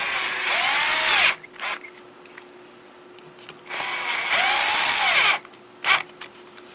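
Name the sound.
power drill tightening screws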